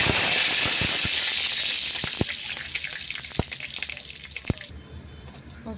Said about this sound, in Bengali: পাস্তাতে তেলটা বসিয়ে দিয়েছি, সর্ষে ফোড়ন দিচ্ছি